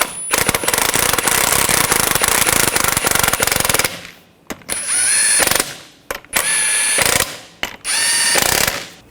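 Ratchet tightening wheel lug nuts on a 2015-2020 Cadillac Escalade during a front brake caliper job: a long, loud, steady run of rapid pawl clicking, then three shorter ratcheting bursts separated by brief pauses.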